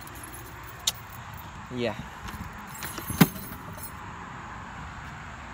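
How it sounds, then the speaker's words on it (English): Keys jangle and then drop with sharp metallic clinks outdoors by a shed in stormy weather, a few distinct hits over windy background noise, and a person speaks one brief word. "Just dropped the keys."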